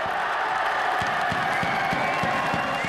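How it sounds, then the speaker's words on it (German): Crowd cheering and whooping at an under-19 youth football championship match in Bavaria after an equalising goal, a loud sustained roar with scattered claps and shouts, voices mixed in. "Dementsprechend groß war auch der Jubel über den zwischenzeitlichen 1:1 Ausgleich gegen die Münchner"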